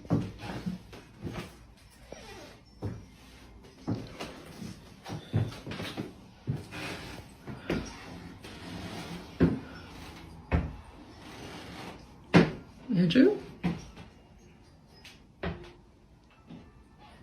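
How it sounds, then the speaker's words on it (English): Irregular knocks and bangs sound throughout a quiet room, some sharp and loud, others dull, with a voice briefly calling out. "3 distinct knocks echoed, chillingly deliberate."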